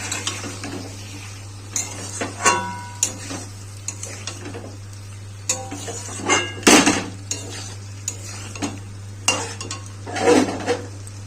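Spice masala of chili and cumin powder is sautéed in a pan for a Bengali rui fish curry with poppy seed and potato, heard as repeated close metal spoon scrapes and clinks against the pan over a faint sizzle and steady hum.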